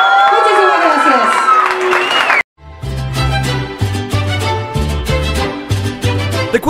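A crowd at a quinceañera party with a mariachi band cheers and whoops, then claps and shouts continuously over music with a strong bass beat; loud and lively.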